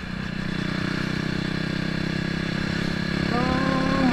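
A KTM RC390 motorcycle engine runs at a steady, close idle with an even mechanical hum throughout, while people talk over it.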